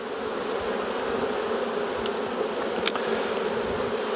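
A vigorous honey bee colony hums in a steady, dense buzz throughout an open-hive inspection, close and continuous, with a couple of brief sharp ticks near the end.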